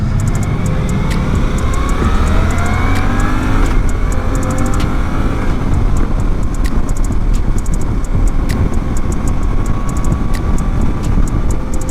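A 2024 Suzuki V-Strom 800 DE adventure motorcycle accelerates through quick-shifter gear changes. Loud, close engine drone with rising tones and brief shift breaks rides over heavy wind rush throughout, with no talking.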